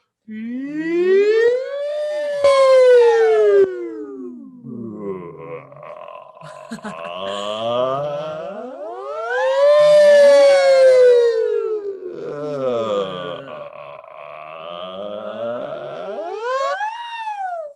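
Voices imitate sirens, sliding their pitch up and down in long sweeping wails, several rising and falling glides repeated back to back, loud and close.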